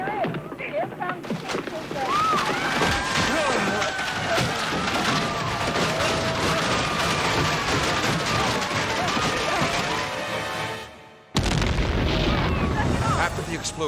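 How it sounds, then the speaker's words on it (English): A long, loud roaring blast of an exploding whale carcass, with rumbling and crackling debris going on for several seconds, briefly dropping out before the roar resumes. "After the explosion, chunks of burning blubber rain down from above as the people flee in terror."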